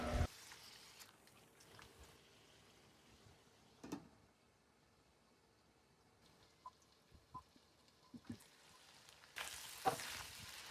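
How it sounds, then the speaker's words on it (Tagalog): Pork casing sears and fries in oil for adobo, giving a faint, steady low crackle with a few scattered soft pops and utensil taps, fairly quiet throughout. "Then prituhin lang natin o i-sear lang natin for at least 15 minutes."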